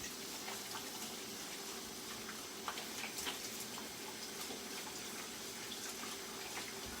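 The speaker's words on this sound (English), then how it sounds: "wash my hands again" Hands are washed under a kitchen sink tap, a steady hiss of running water with faint splashing and small clinks throughout, fairly quiet and with no talking.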